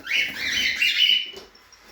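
Lovebirds in an aviary give a quick run of bright, high chirps and twittering calls, close and fairly loud, with no voices.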